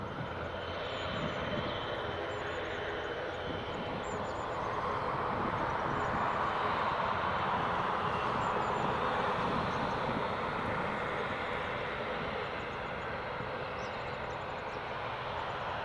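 An Aer Lingus ATR turboprop airliner at Newcastle Airport gives off a steady, broad engine roar that swells slightly toward the middle and holds at a moderate distance throughout.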